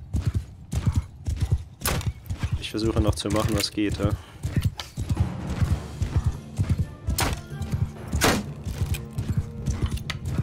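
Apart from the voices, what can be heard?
cavalry horses galloping in video game Mount & Blade 2 Bannerlord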